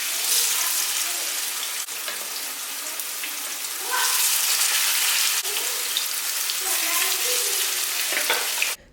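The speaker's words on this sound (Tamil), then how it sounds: "2 தவா யூஸ் பண்ணி ஃபிஷ் ஃப்ரை பண்ணிட்டேன்," Fish frying on a tawa gives a loud, continuous hiss and crackle of hot oil, with brief swells where the pieces are moved or stirred, and no voices over it.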